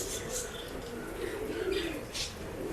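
A Guldar male pigeon coos softly among other birds, a low, faint, continuous cooing with scattered light chirps in the background.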